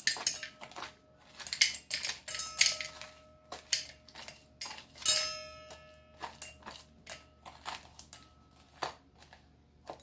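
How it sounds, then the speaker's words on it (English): A metal spoon scraping seeds out of a real halved pumpkin, heard as a string of close, sharp clinks and scrapes in irregular bursts with short quiet gaps between. "just take your pumpkin, scrape out the pumpkin seeds"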